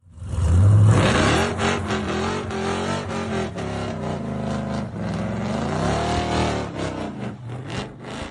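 Dodge Charger Hellcat engine revs hard right after start-up, a loud, close, throaty roar rising and falling through repeated throttle blips with a deep rumbling idle underneath.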